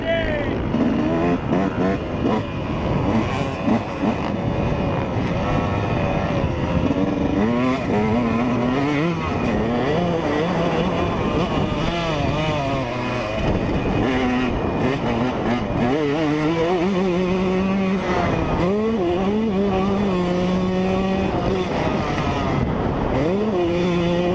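A 125cc dirt bike engine revs up and down in long, loud, changing whines while it is ridden and jumped, with engine pitch rising and falling under speech.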